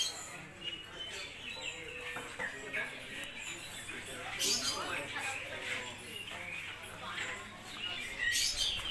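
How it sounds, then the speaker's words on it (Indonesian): High, squeaky calls of an Asian pied starling chick at a bird market in Sumenep repeat in quick irregular bursts, close by, with people talking and background chatter underneath. "Ini kayaknya anakan cucak keling"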